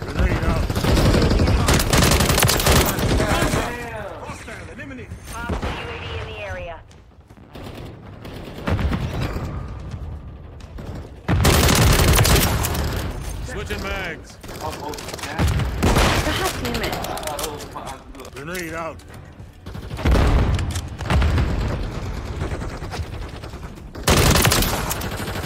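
Rapid automatic gunfire and bursts of shots in Call of Duty Modern Warfare multiplayer, loud and dense across the whole stretch with short lulls, mixed with game effects while players talk over it.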